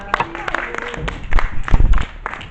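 A group applauds after a performance: a short burst of clapping that swells and then fades, mixed with voices.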